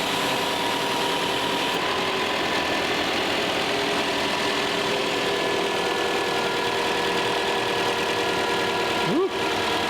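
A 2009 Subaru Impreza WRX, rebuilt from salvage, idles steadily and close by with a continuous engine hum and a brief chirp near the end; a voice is faintly present.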